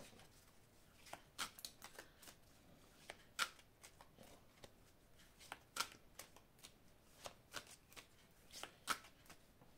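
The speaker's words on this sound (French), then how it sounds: "je vais couper le jeu et on va recouvrir les cartes" Repeated riffling and snapping of an oracle card deck as it is cut and shuffled, sharp papery bursts in an irregular rhythm, close and fairly quiet, with no talking.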